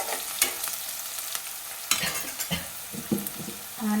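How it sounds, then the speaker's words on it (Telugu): Onions frying in a pan for a carrot curry, a steady bright sizzle with the scrape and clink of stirring close by, and no talking. "ఆనియన్స్ బ్రౌన్ కలర్ వచ్చే వరకు మగ్గించుకుంటేనే ఏ కర్రీ అయినా బాగుంటుంది ఫ్రెండ్స్."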